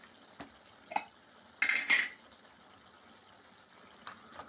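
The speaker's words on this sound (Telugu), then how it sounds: "సాల్ట్ వేసి కలిపేసుకున్నాను." Salt being stirred into boiled beans in a pan for beans curry, heard as a few sharp metallic scrapes and clanks of a utensil against the pan, with one louder cluster in the middle, over a quiet kitchen background.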